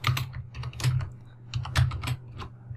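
Fingers type code on a computer keyboard in GameMaker Studio, a quick uneven run of clicky keystrokes close by, with small clusters and brief pauses and no talking.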